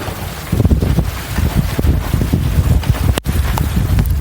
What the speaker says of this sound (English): That's the sound of wind.